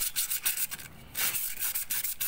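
Rapid back-and-forth rasping of sandpaper on a car's rear brake drum, a steady scratchy rhythm with a brief pause in the middle, close by.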